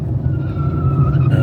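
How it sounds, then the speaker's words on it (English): A motorcycle rolls past on a road, a steady loud engine drone that holds for the whole moment with a slight rise in pitch near the end. "Wow, that's a motorcycle."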